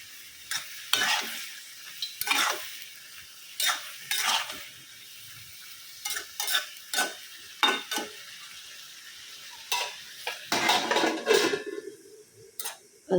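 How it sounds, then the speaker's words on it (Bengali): Shrimp fry in a pan on a stove, with a quiet background hiss broken by frequent sharp stirring scrapes and clinks of a utensil against the pan, coming in irregular close bursts. "এই চুলায় চিংড়ি মাছটা ভেজে নিব আর পাশে পাশে চুলায় বসাই দিলাম এই যে চাল কুমড়ার তরকারিটা"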